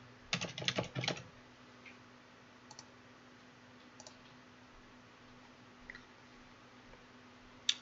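Quick burst of keystrokes on a computer keyboard as a password is entered, then a few sparse, faint clicks in a quiet room with a low steady hum.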